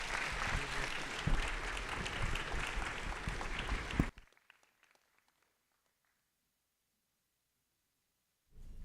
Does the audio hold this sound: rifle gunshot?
no